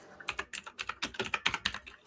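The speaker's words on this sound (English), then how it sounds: "I can hear aggressive typing." Aggressive typing on a computer keyboard: rapid, forceful key clacks in quick irregular bursts, close and clear, with no talk over them.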